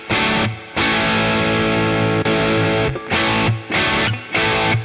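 Crunchy overdriven electric guitar through a small practice amp, loud and close, with a long sustained chord followed by three short, punchy stabs, each separated by a brief gap, and no talking.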